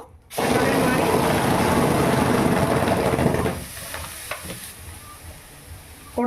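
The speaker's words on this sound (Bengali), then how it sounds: "কড়াইতে বেশি গরম হয়ে গেছিল বলে মানে শব্দ করলো" Loud, steady sizzle of palm fruit batter hitting a very hot wok, a dense hiss that settles lower after a few seconds, with scraping and clinks toward the end.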